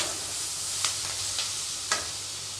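Ingredients for a coconut chutney sautéing in a pan, giving a steady soft sizzle with a few light stirring scrapes, close by and with no talking.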